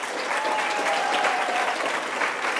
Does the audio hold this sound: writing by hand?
no